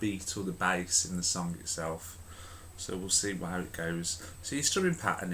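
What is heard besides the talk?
No everyday noise stands out behind the speech.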